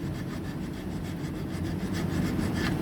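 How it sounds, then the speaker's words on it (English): Steady, continuous rasping of a hand file across a rear brake pad from a 2013 Ford Transit pickup, close and fairly loud, with even back-and-forth scraping strokes and no talking. "And then we file it all up"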